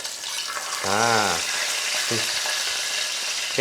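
A fish fillet sizzles skin-down in a hot pan as the skin crisps, a steady close-up frying crackle running throughout, with someone briefly speaking over it.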